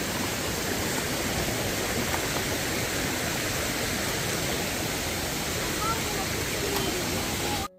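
A stream of water flows along the path to a waterfall in the Maredumilli forest, a steady, close, loud rushing hiss that holds unchanged from start to finish before cutting off abruptly.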